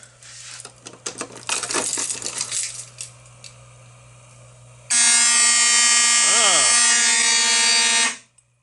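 A fire alarm in a newly installed system under test blares a loud, steady electronic tone for several seconds, then cuts off; before it sounds, clattering handling noise and talk fill the room.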